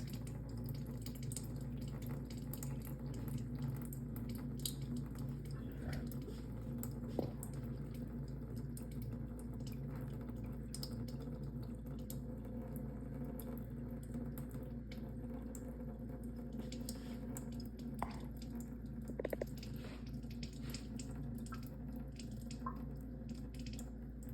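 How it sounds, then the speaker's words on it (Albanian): Cleaning water pours steadily from a Kangen K8 Enagic water ioniser, a continuous even gush of running water with a few faint drips and clicks throughout. "Unë do ta hapi këtë Dhe këtu uji do të dalë, që është uji pastrimit."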